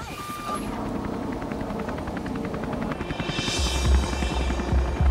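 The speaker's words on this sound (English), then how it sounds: "As the heli returns to the trailhead" A helicopter flies back toward a backcountry trailhead after an avalanche rescue, its rotor giving a steady rhythmic chop that grows slightly louder toward the end, with a low engine rumble beneath.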